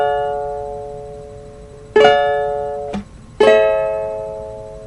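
Ukulele strums a song's chord progression: a ringing chord decays, then three sharp strums follow at uneven intervals, one cut short by a muted chuck, each left to ring out clearly and alone.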